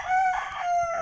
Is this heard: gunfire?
no